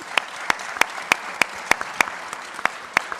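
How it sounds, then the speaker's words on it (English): A round of applause for the ministers at the opening ceremony of a regional forum: a small audience gives sparse, distinct claps, roughly three per second with a few softer ones in between, steady and close for several seconds. "I would like to ask you all for a round of applause for our ministers"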